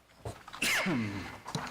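A single sneeze bursts out in a meeting room, loud and close, followed by a brief trailing breath and a short vocal sound near the end.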